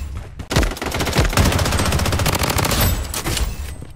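Rapid automatic gunfire in the shooter video game Blood Strike, a loud, steady stream of machine-gun shots lasting a few seconds after a couple of opening bangs.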